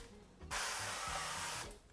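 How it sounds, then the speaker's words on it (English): Oil mist sprayed over cauliflower florets headed for the air fryer, a steady, close hiss lasting more than a second with no talking. "I'm gonna spray them again with some oil."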